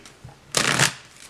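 Tarot cards shuffled by hand: one brisk riffling burst about a third of a second long, close and crisp, after a brief light tap, with no speech.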